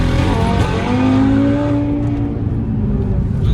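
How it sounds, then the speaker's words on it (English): An Audi RS3 8V engine revs hard under kick-down acceleration with anti-lag, a loud rising drone that climbs steadily in pitch and holds a strong, continuous roar from close by. "I don't know if you guys heard there, it's got like a kick down anti-lag function."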